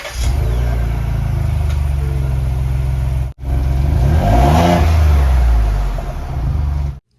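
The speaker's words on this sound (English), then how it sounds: "So right now we have the stock muffler and exhaust setup on it." A Ford Bronco SUV engine with the stock muffler and exhaust idles with a deep rumble, then revs up and settles back twice, close and loud, with a brief cut between revs.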